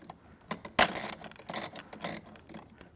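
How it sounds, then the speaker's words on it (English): A bolt on a Konnector being tightened on a Studio Reformer with wooden risers, heard as close, moderately loud ratcheting clicks and metallic rattles in uneven bursts, with no talk. "I'm going to press it all the way up there and tighten the bolt to make sure it stays in"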